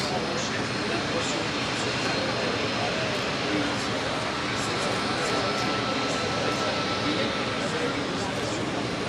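A LEAP-powered Boeing 737 MAX jet at the Paris Air Show roars with a steady, loud, broadband engine rush that holds without break throughout.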